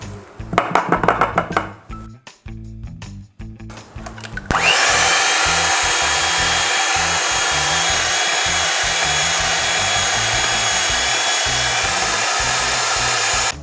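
An electric hand mixer beats vanilla cake batter in a bowl, running as a loud, steady whir for most of the stretch after a few seconds of scraping and clatter at the start.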